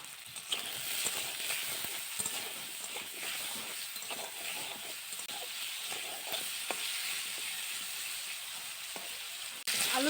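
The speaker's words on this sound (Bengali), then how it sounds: "আলু ভাজা হয়ে গেছে, এখন নামিয়ে নিব।" Potato pieces frying in hot oil in a kadai give a steady, dense sizzle and hiss throughout, with a few faint clinks of a utensil and no talking.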